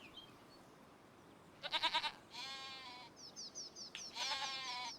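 Sheep in a barn in Farming Simulator 25 give several short bleats in bursts, some stuttering and some drawn out, clear and close over a quiet background hiss.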